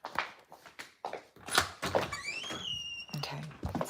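A door being pushed open on the way outside: a few close knocking thunks and steps, then a drawn-out rising squeak, moderately loud.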